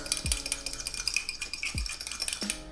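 An egg, baking powder and milk are mixed together in a bowl, quick light clicking and scraping of a utensil against the dish with a few louder knocks, close and soft.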